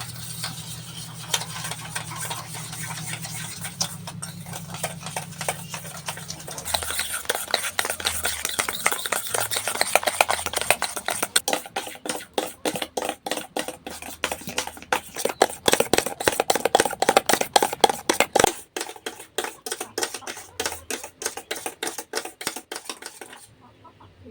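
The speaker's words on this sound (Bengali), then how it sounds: "চিনিটা ডিমটা ভালো করে মিশে যায় সেই জন্য আমাকে ভালো করে ঘুটে নিতে হবে আমি এরকম সাইজের একটা চামচ নিয়েছি" Eggs and sugar beaten with a spoon for caramel pudding in a home kitchen, fast rhythmic clinks and taps of metal on a bowl that build in pace and loudness over a low background.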